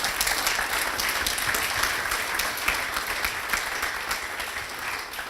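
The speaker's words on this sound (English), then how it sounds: "Big round of applause." An audience at an evening talk with a company CEO claps steadily, a dense, even wash of hand claps from a roomful of people, sustained throughout without talk.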